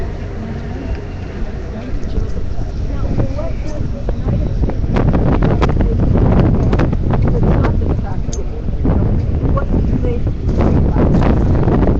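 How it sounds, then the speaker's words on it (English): Strong wind buffets the microphone outdoors at a ranch press gathering, a loud, steady low roar with gusty surges throughout, while people talk nearby. "I have to close my eyes this wind"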